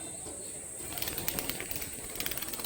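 Red jiriya girebaz pigeons give soft, faint coos along with quick, repeated wing flaps. The flaps come in short bursts toward the end, with no speech.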